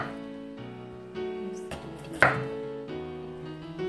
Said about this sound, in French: Vraiment de très très petites fines tranches de carottes.